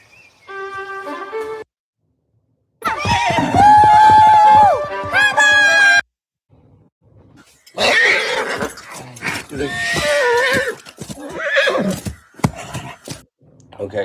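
A knight's war horse whinnies and snorts loudly in bursts, close up, with voices talking between and over the calls; no clear hoof clip-clop stands out.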